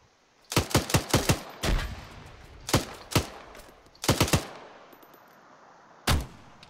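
Sharp gunshots ring out in ArmA 3, fired in quick clusters of three to five with short pauses between, then a final single shot, loud and close with a ringing tail and no talk.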